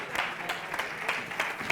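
Audience applause welcoming a speaker onto a stage at a marketing event, moderate and somewhat distant with scattered individual claps standing out.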